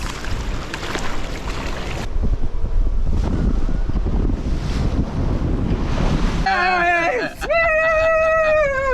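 Big ocean waves surge and rush around a sailboat on an open-sea passage, with heavy wind buffeting the microphone in a loud, continuous roar; near the end a whistling tonal sound rises over the wind.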